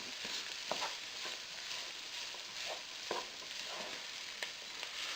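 Onions softening in a pan for spaghetti bolognaise, a soft, faint sizzle with periodic stirring scrapes and taps of a utensil against the pan.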